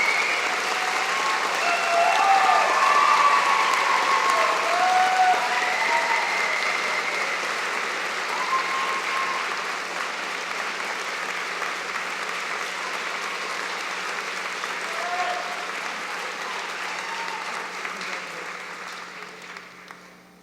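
Sustained audience applause at a spring university convocation honoring the student MacEwan Medal recipient, a nursing graduate; dense, steady clapping fills the whole stretch, swelling early and gradually thinning toward the end, with no talk over it.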